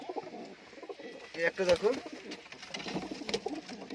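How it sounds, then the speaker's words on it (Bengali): Fancy pigeons coo in a loft, low throaty calls rising mid-clip against a quiet background, while a person talks nearby. "বেশ কিছু পায়রা রয়েছে।"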